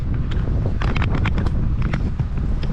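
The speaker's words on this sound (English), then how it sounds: "The wind's blowing like crazy too." Strong wind buffets the microphone in continuous low rumbling gusts at a tree-clearing site, loud and steady throughout with brief crackling flutters and no talk.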